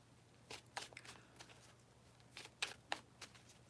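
Tarot cards are shuffled close by in quiet, scattered riffles and soft slaps, a handful of brief crisp bursts over a faint low hum.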